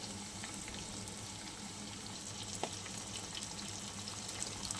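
Fish roe and fish fat fry in oil, a soft, steady sizzle with light spattering crackles and a few brief pops.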